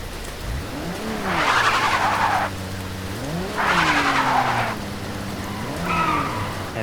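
A car drives and skids in the BeamNG driving game in wet weather. Engine notes rise and fall through gear changes, and two loud bursts of tire skid hiss come, followed by a shorter third near the end, with no voices.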